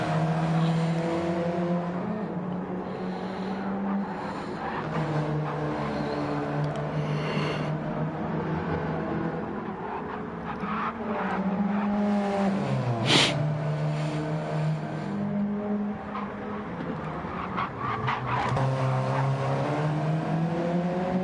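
Race cars in an online sim race at WeatherTech Raceway roar under hard acceleration, with continuous loud engine drone and rising, shifting pitch sweeps as several cars pass close, steady throughout.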